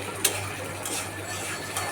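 Small broiler chicken pieces being stirred and fried in a pan: a soft, steady sizzle with a sharp scrape near the start and a few faint utensil clicks, with no talking.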